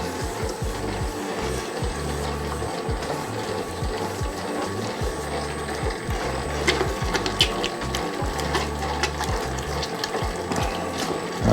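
A dough mixer runs steadily, kneading high-hydration pizza dough with a continuous rhythmic mechanical churning and clicking that holds even and close for the whole stretch.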